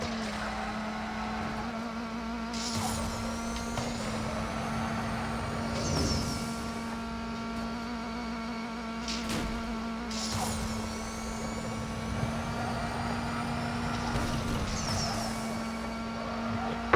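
Racing car engines in the mobile game NFS No Limits rise and fall through repeated gear sweeps, a steady mechanical drone broken by rapid upshift swoops and brief bursts over a constant background hum.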